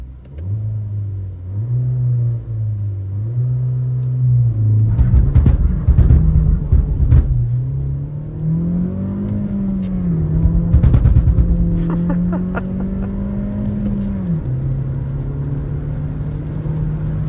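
A Škoda Octavia 1.5 TSI with a 110 kW engine and summer tyres accelerates uphill on a cold wet road. The engine drones and rises steadily through the gears, loud and close, with brief rumbling thumps and no speech.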